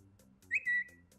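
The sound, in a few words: Twitter tweet notification sound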